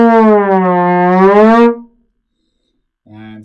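Trombone slide glissando: a loud, sustained brassy tone bending smoothly through pitches for under two seconds, then silence and a brief low note at the end.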